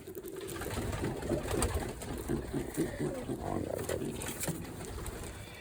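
Pigeons coo in soft, repeated throaty rolls nearby, a steady stream of murmuring calls with faint background noise.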